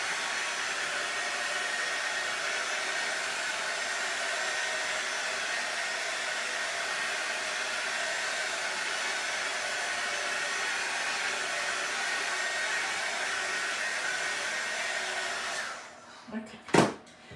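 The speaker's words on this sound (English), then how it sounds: "Let's give it a quick little blast on my heat gun just to make sure that there's nothing" A heat gun blows steadily on freshly painted stripes on a canvas, a loud continuous whooshing roar for about sixteen seconds that then cuts off, followed by a few faint clicks and knocks.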